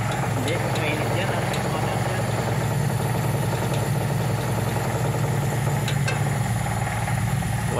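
A Nissan B13 carburetor engine idles steadily and loudly up close during carburetor tuning, a continuous running drone under people talking.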